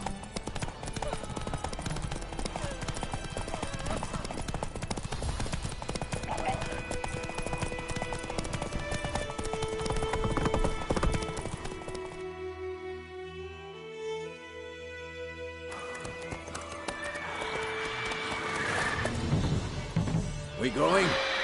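Horse hooves clip-clopping at a gallop in the Witcher 3 game, a steady rhythmic beat under game music and voices, with a brief quieter stretch midway.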